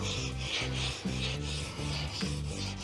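Chisel bevel rubbed back and forth on the fine side of a sharpening stone in a woodworking shop, giving a steady rhythmic rasping scrape with about six strokes, close and moderately quiet, with no voice.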